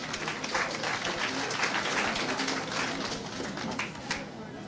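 Audience applause rings out at a Kwakoe commemoration for Aruba's Vice Prime Minister, a dense, steady crackle of many hands that stays loud and continuous throughout.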